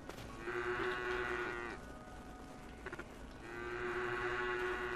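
Cows mooing in the video game Craftopia, two long, low moos heard close and clear, separated by a brief pause with faint game sounds.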